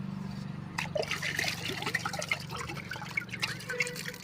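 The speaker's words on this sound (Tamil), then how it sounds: "தண்ணி ஊற்றிக்கலாம்" Water poured from a container onto soil freshly sown with chilli seeds, a steady trickling splash over a low background hum, lasting the whole stretch without talk.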